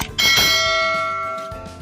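A single bright notification bell ding rings out clearly and lets its shimmering tone ring on for over a second, alone with no voices.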